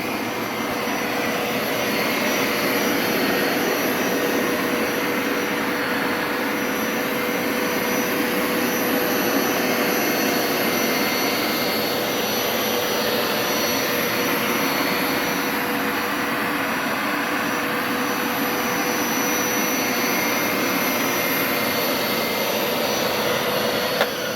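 Hoover Power Scrub Elite carpet cleaner running on its rinse setting in an office, a loud, steady motor and suction roar with a constant whine, holding unbroken for the whole stretch with no voices.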